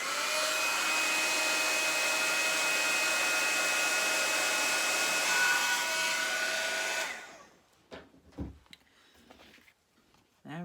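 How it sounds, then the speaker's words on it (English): A heat gun blows a loud, steady whine and rush of air while heating embossing powder for about seven seconds, then cuts off, leaving a few quiet handling knocks close by. "we're going to heat this up with the heat gun"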